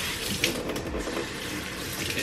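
Kitchen tap water runs steadily over a freshly caught blue crab being cleaned in a sink, a continuous close splashing hiss with no talk over it.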